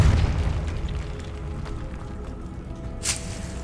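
Depulso spell blast in the Hogwarts Legacy video game: a low booming rumble fades under a quiet ambient hum, followed by a brief bright burst near the end.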